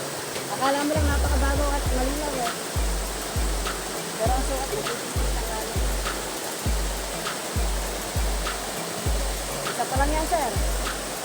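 Rushing water flows continuously, a broad steady wash with rhythmic low thuds repeating about once a second.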